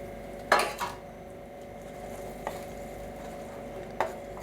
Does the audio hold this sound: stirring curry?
yes